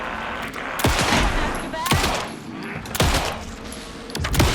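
Heavy gunfire blasts at an enemy in Alan Wake 2, loud separate booming shots spaced about a second apart, each ringing out briefly, amid background ambience.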